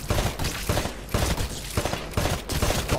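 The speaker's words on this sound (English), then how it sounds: "Destroy all of the targets in the shooting range." Rifle fire at shooting range targets in the Titanfall video game, rapid bursts of loud gunshots in quick succession with short pauses between volleys, close and punchy.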